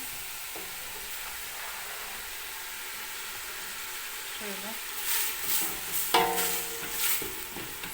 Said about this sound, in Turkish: Soğanla sarımsağı iyice kavrulsun.